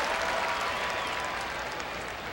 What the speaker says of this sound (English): A good ovation for Dallas Keuchel